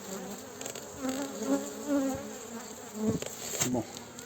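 Honeybees buzzing around an opened hive, with a dense close drone and individual bees zipping past in rising and falling whines.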